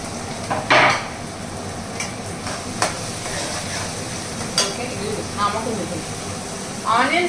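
Onions and green chillies frying in a pan for fish curry, a soft continuous sizzle with intermittent stirring scrapes and clinks, while a person talks over it.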